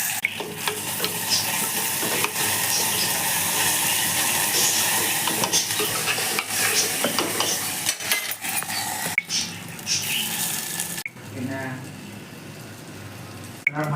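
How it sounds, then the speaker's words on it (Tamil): Onions sizzling and frying in oil with clove and spices for a mutton gravy, a steady loud hiss with scraping stirs of a spoon in the pan, no talk. "நல்லா எண்ணெயிலே நல்லா ப்ரௌனிஷாக வதங்கட்டும் வெங்காயம்"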